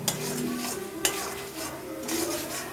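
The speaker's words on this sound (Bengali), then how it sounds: "এর মধ্যে দিয়ে দেবো আমরা ভেজে রাখা আলুগুলো দিয়ে সঙ্গে কিছুক্ষণ নাড়াচাড়া করব।" A utensil stirs fried potatoes in oil in a pan while cooking egg kosha, giving a continuous sizzle with scraping and occasional clinks against the metal, close and steady.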